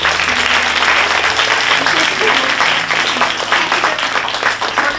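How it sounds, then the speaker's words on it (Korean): A church congregation applauds during a missionary dispatch service, dense even clapping at close range that holds steady for several seconds, with a low sustained tone underneath. "자, 박수."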